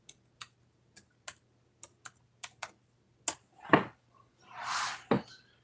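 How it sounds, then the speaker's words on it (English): A computer keyboard being typed on in short, separate clicks, a dozen or so light keystrokes spaced irregularly, close and clear against a quiet room, followed by a couple of heavier thumps and a brief rustle. "Just typing in something, everybody."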